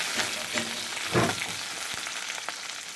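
Onions fry in hot oil with a soft steady sizzle, broken by a few light stirring scrapes and one fuller clatter near the middle, close and fairly quiet.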